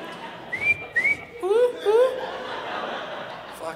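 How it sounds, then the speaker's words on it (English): An audience member at a stand-up comedy show gives a Molly whistle, a series of sharp sliding whistles. Laughter and chuckling from the crowd follow it. "that's a Molly whistle, all right."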